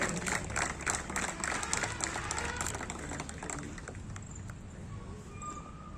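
An audience at an award ceremony during a founders' day celebration claps in a steady, fairly close patter for several seconds, fading slightly toward the end.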